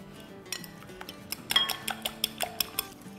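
A spoon stirs and scrapes spiced mince filling with salt, black pepper and cumin in a bowl, giving a run of quick clinks and taps against the bowl over soft background music, with no talking.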